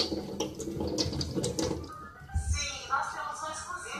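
Tap water runs into a kitchen sink, filling and splashing as tomatoes are set to soak, while someone talks over it at first.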